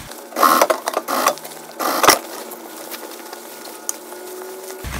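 A sewing machine runs in short bursts while stitching a remade denim jacket, with brief pauses between runs and quieter handling afterward; no talking.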